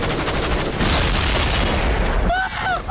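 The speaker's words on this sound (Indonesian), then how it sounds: "Wolfman yang tidak sengaja melewati ladang ranjau langsung terlempar akibat ledakan" A loud, close landmine blast in a TV series with a heavy booming rumble and debris noise, followed by a brief high ringing tone and a voice.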